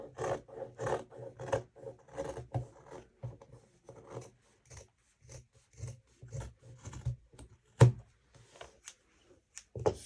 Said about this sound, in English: So then we cut the yoke part.